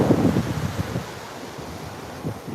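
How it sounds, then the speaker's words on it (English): A soft, warm breeze blows off the ocean at a beach near sunset, gusting in buffeting rumbles against the microphone with surf washing underneath; no one speaks. "there's a very soft, warm breeze coming off of the ocean"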